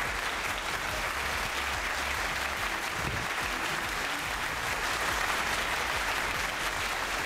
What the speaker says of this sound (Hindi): मेरी आमद पर जैसी तालियां बजी हैं